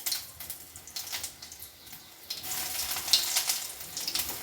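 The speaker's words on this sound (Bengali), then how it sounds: "এবার আমি এই যে বিস্কুটের গুঁড়ো মাখিয়ে রেখেছি, এটা আমি এক এক করে ভেজে নেব।" Raw banana koftas coated in biscuit crumbs frying in hot oil in a kadai, a soft crackle that swells into a steady, louder hiss partway through, close by.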